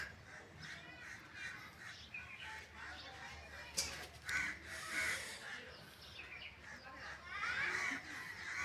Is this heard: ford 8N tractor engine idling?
no